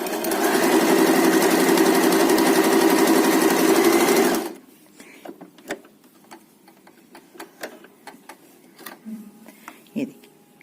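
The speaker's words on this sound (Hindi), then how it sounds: "2 पीसेस को ज्वाइन करने के लिए हम एक पैर की सिलाई लगाएंगे।" Sewing machine running steadily at close range for about four seconds while joining leftover cloth pieces for a table runner, then stopping, followed by faint handling clicks.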